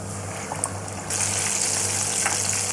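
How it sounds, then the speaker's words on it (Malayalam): Batter-coated chicken, dipped in a yogurt mixture and flour batter, hisses and sizzles in hot oil as a steady broadband frying noise that grows louder and denser partway through, heard close with no talking. "ഇനി നമുക്ക് തിളച്ച എണ്ണയിൽ"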